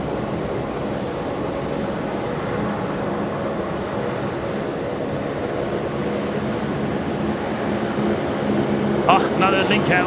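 A Link Airways Saab turboprop approaches at Brisbane Airport, a steady engine drone that grows louder toward the end, with a brief sharp clatter near the close.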